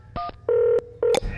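Phone call being dialed: a quick run of three loud, close touch-tone beeps of different pitch, each held briefly, with short gaps between them and no voices.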